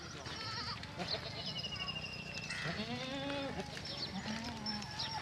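Dairy goats for sale bleat repeatedly in a farm pen, several wavering calls overlapping at close range, with steady background noise and some talk underneath.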